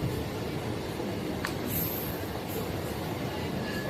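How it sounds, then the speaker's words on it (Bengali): Humsafar Express 22318, Jammu Tawi to Sealdah, with LHB coaches behind a WAP-7 electric locomotive, rolling past in a continuous loud rush of wheels and rail noise, with brief metallic squeals and clicks over the steady roar. "হামসফর এই এক্সপ্রেস ট্রেনটির নাম্বার হচ্ছে 22318"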